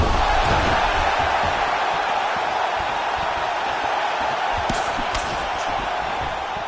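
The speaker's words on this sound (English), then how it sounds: "You hear the crowd react every time they come together" The arena crowd at a UFC 301 fight roars in a continuous dense wash of noise as the fighters trade strikes, with a few brief louder bursts partway through.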